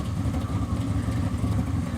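A classic car's engine idles steadily at an outdoor St. Patrick's Day car show on a street, with a loud, continuous low rumble throughout and no speech over it.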